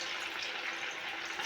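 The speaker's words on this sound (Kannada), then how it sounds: "ಇದೇ ಟೈಮಿಗೆ ನಾನು ಏನು ಸಾಬುದಾನ ಸ್ಟಿಕ್ಕೀಸ್ ರೆಡಿ ಮಾಡಿ ಇಟ್ಕೊಂಡಿಲ್ಲ ಅವನಿಗೆ ಫ್ರೈ ಮಾಡಕ್ಕೆ ಹಾಕಿರ್ತೀನಿ." Sabudana sticks frying in very hot oil, a steady dense crackling sizzle with no pauses, fairly close and even in loudness throughout.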